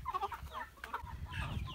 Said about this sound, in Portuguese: Olha aqui é o galinheiro. Olha aí, mas galinha tá correndo comigo.